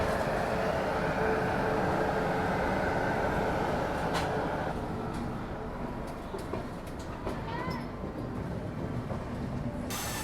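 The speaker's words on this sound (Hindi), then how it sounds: "बीच में मालगाड़ी यहाँ पे है और अच्छी खासी रफ्तार में बिल्कुल पैडल में निकल रही है ये" A freight train rolls past at speed near a busy passenger terminal, a steady loud rumble of wagons with faint clickety-clack, fading slightly toward the end.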